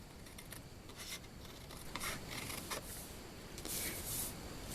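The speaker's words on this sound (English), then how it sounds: "I'm just going to take my nice sharp little cutter bee scissors and trim these out." Small sharp cutter bee scissors trim cardstock love ticket pieces for a Valentine card, a series of quiet close snips and paper rustles spread across the clip.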